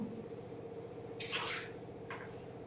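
Water runs from the tap of a Waterguard V Thrust purifier in a house, a brief hissing splash lasting about half a second, then a shorter fainter trickle, over a quiet steady hum.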